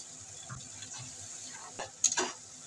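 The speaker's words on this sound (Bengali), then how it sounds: "মিক্সিং জারটা ধুয়ে সামান্য একটুখানি জল দিয়ে দিচ্ছি" Splash of water from a rinsed mixing jar hitting spice paste frying in a pan for a whole pointed gourd and rohu fish curry, a soft steady sizzle with a few light stirring taps, then a brief louder hiss near the end.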